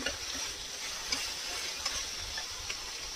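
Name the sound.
raw hilsa fish with green chillies frying in a pan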